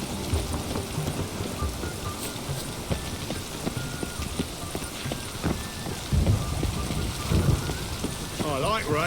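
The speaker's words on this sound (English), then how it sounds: "Lots of fuss over lots of rain." Steady rain falls in The Witcher 3 game world, a dense pattering hiss with scattered louder drops and thumps, continuous throughout with no talk.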